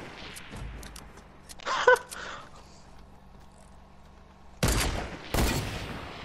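Gunfire in Fortnite Battle Royale: scattered sharp shots and a brief burst early, then two loud, broad blasts near the end, with quieter game noise in between and no talking.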